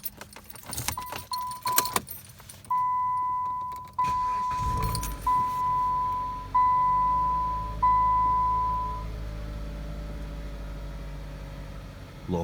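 Keys jingle, then a steady electronic chime repeats for several seconds as a 2014 Dodge Avenger's 2.4-litre engine cranks and settles into a low, smooth idle.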